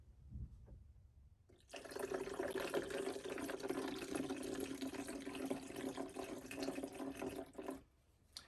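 Water poured back into a container while preparing homemade CBD oil, a steady close-up pour running about six seconds without a break, with no talking.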